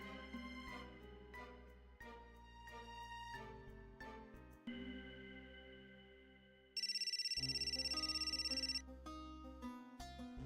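A telephone rings with a steady electronic ringtone for about two seconds partway through, set against tonal background music in a Marathi TV drama scene; no talking.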